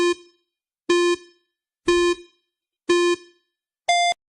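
Countdown timer beeping, five loud electronic tones spaced about a second apart, the last one higher-pitched to signal the end.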